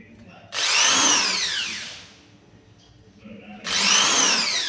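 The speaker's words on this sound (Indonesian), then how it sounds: "kita pakai bor lagi ya" A power drill whirs in two bursts, its pitch rising and falling as it bores into a plastic door hinge, with a quiet pause between them.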